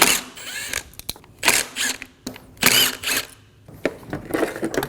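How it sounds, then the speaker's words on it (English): A T25 bit backs out the window motor screws on a 2008-2015 Scion xB, giving short bursts of whirring power-driver ratcheting separated by quiet pauses, close up. "Using a T25 bit, remove the 3 screws for the motor."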